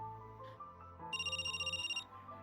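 A mobile phone rings with a bright, warbling electronic ringtone that pulses rapidly for about a second over a quiet background of low tones.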